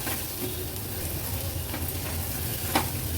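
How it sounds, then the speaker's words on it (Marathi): Steady sizzling and frying with occasional scrapes of a spoon stirring mutton liver in a hot pressure cooker, no voices. "व्यवस्थित हे परतून घ्यायचे आपल्याला"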